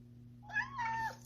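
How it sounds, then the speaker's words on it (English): A single drawn-out kitten meow in an outdoor catio, close and fairly clear, rising then holding before trailing off, over a low steady hum. "Meow."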